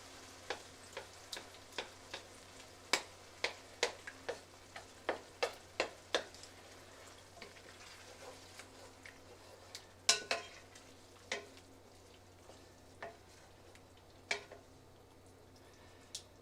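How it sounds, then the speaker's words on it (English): Scattered knocks and scrapes as a slotted spoon crushes and stirs tomatoes into a rosa sauce in a pot, irregular clacks spaced a second or so apart against a quiet background. "we're going to kind of smash them with a slotted spoon, get those crushed up a little bit. Mix that all in"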